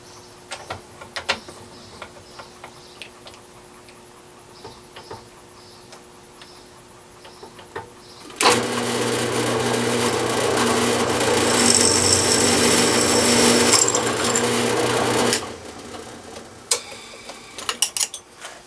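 Power drill boring holes in a metal bracket for a 2-meter halo antenna, a loud continuous whir running for about seven seconds in the middle, framed by quieter ticking and tool handling before and after.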